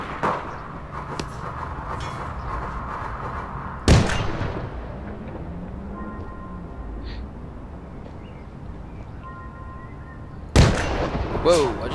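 Two sharp gunshots ring out in the online shooter APB Reloaded, one near four seconds and another near the end, with steady game ambience and faint tones filling the gap between them.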